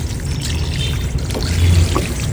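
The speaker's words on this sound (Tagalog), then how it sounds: "Syempre hugasan muna natin itong mabuti para matanggal yung kanyang lansa." Pork being washed under running tap water in a kitchen while preparing sinigang, with a steady pouring, splashing stream.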